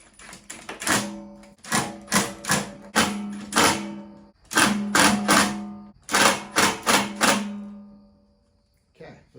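A power tool drives screws into a bumper-mounted RV grill under repair, giving groups of sharp, rapid, rattling bursts that repeat in clusters of three or four, loud and close, then stop.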